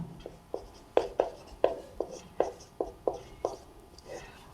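A pen writes out a math problem on paper in a quick series of sharp, regular strokes and taps, close and fairly quiet.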